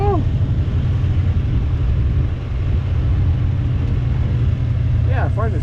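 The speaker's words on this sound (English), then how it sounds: "It's idling higher now, too." A 1968 Buick Skylark convertible muscle car's engine idles steadily and loudly up close, a continuous low rumble throughout, with people talking over it.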